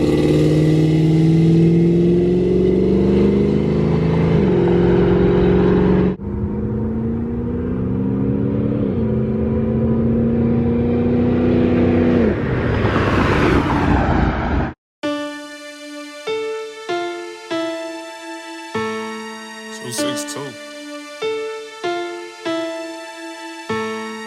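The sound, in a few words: Chevrolet El Camino accelerating, pull and drive-by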